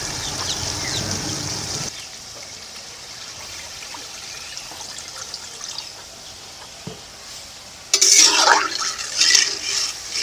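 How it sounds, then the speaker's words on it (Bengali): Water poured into a pan of fried spices while cooking a spicy river fish curry (aar fish jhal), a loud rushing, hissing splash bursting in after a quiet stretch and continuing to the end. "এখন জল দিয়ে দেবো।"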